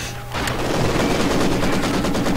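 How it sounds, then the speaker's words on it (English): Mortar and gunfire in Company of Heroes 2, a sudden loud onset of dense, continuous battle noise with rapid crackling shots, close and unbroken, with no talk. "Ooh, I think I heard mortar."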